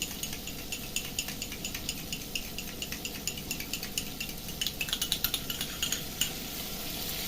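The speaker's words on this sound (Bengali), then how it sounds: "এই যে টক দই 1 কাপ আমি নিয়েছি, ফেটিয়ে দিচ্ছি আমি।" Sour yogurt being whisked in a bowl at home, a steady run of light wet clicking strokes that grows a little louder and brisker toward the end, heard close with no talking.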